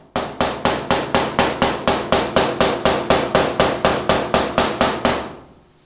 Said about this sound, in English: just take a body hammer